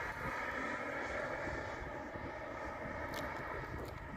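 Aero L-39 Albatros jet in flight gives a steady, dense engine roar with broadband rushing noise, heard continuously from inside or close by, with no clear talking.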